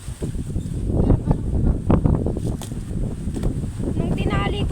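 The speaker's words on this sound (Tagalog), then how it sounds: "Mahangin dito sa amin." Gusty wind on a goat farm buffets the microphone in loud rumbling bursts, with rustling and a voice talking faintly underneath.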